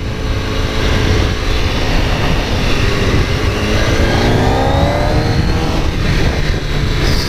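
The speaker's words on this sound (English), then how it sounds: "The other car was going a bit quick." Another car drives quickly along a road near Pula, Croatia, with a loud continuous engine and road roar whose pitch rises slightly as it closes in, heard up close with no talking.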